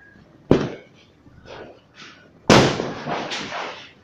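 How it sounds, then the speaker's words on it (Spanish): Sharp explosive bangs burst nearby, followed by crackling and rumbling that trail off, with a second louder blast and sustained crackle. "Una explosión más, quiero."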